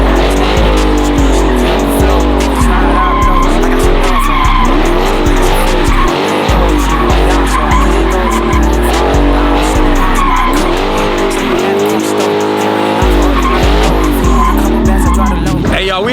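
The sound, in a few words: car spinning with skidding, squealing tires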